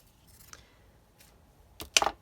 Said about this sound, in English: let's just cut this right the way across